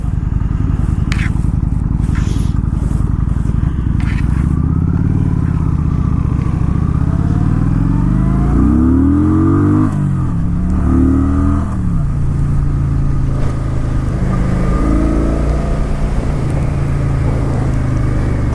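A Kawasaki Vulcan 900 motorcycle roars through a burnout, its engine revving hard in rising and falling sweeps over a constant loud rumble of tire and exhaust noise.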